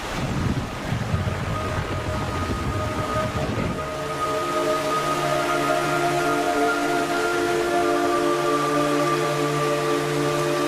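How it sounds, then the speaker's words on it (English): Steady rain falls as a dense, even hiss in the video game Metal Gear Solid: Snake Eater 3D, joined partway through by a sustained low ambient drone that continues to the end. "It's raining blood."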